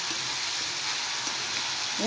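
Paste of spices with raw coriander powder fries in a pan, giving a close, steady, even sizzle throughout with a brief louder stir at the very end.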